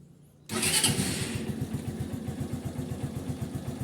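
A Honda TMX Supremo motorcycle engine cranks and catches after a brief silence, then settles into a steady, rhythmic, close-up idle thump.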